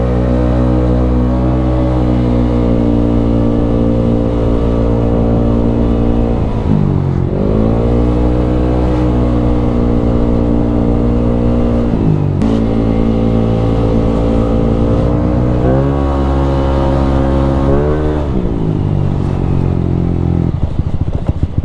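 A scooter-style motorcycle with a loose, worn ball race, revving while riding: a loud, continuous engine drone that climbs, drops off and climbs again through several throttle swells, close to the rider.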